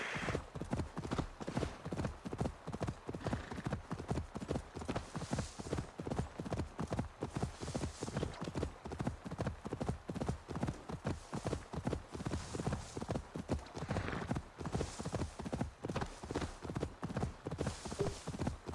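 In Assassin's Creed Valhalla, a horse gallops with a quick, even run of hoofbeats that continues without a break throughout, heard at moderate loudness with a few faint background sounds.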